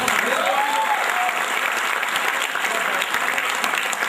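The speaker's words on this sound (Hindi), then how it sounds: "आप चाहो तो एडवांस में मेरे लिए ताली बजा सकते हैं।" An audience claps at a live comedy poetry performance at the Aurora 2k14 college festival, ABV-IIITM Gwalior, a dense, steady wash of applause that carries on loudly throughout, with a faint voice briefly heard under it.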